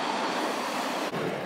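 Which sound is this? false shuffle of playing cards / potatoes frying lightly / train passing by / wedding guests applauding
train passing by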